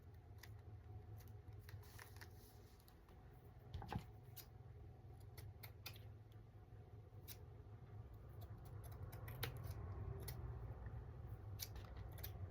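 Scissors snip through a small piece of lace at close range, a few quiet crisp cuts against a steady low room hum, with no talking.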